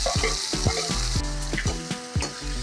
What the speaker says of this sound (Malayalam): ഈ തക്കാളി സവോളയും പച്ചമുളകും എല്ലാം കൂടെ ഒന്ന് വഴറ്റിയെടുക്കണം